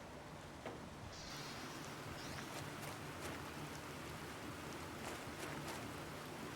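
Rain falls on an alien planet in The Planet Crafter, a soft, steady hiss of drops with faint, scattered patters, low in level and continuous throughout, with no talking.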